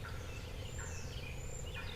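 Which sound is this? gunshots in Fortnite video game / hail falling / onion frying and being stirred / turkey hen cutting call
turkey hen cutting call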